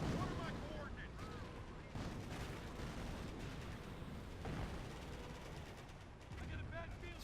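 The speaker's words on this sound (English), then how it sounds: "looks like we got another registered artillery, probably to push off those rifles" Artillery barrages and gunfire boom continuously through a Company of Heroes 1 battle between US and Wehrmacht forces, with repeated explosions, distant rumbling and a Nebelwerfer rocket launcher firing, dense and loud throughout while game voices and commentary run underneath.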